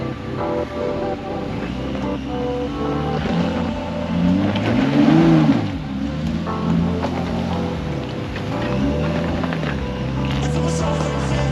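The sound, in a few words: off-road vehicle driving up mountain trail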